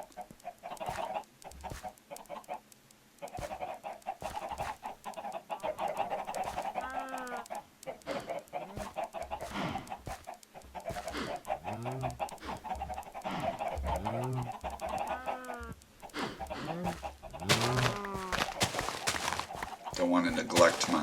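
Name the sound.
chickens clucking in the video game Minecraft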